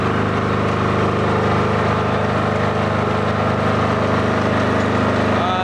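A generator set runs steadily, powering an automatic transfer switch electrical panel, giving a loud, constant engine drone that holds without change throughout.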